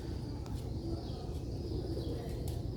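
Master Abdullah breed pigeons coo softly and continuously at close range, a low murmuring layered through the whole stretch with faint background noise.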